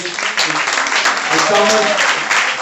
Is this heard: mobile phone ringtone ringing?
no